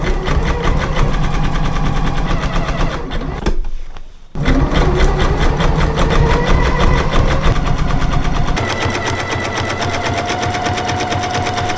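A home sewing machine stitches an applique onto a fabric hat brim in a loud, continuous mechanical whir, pausing briefly partway through before running on steadily.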